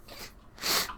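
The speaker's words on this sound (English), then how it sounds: "gonna sneeze" A single sneeze inside a room: a short intake of breath, then one sharp, fairly quiet burst near the microphone, with no talk around it.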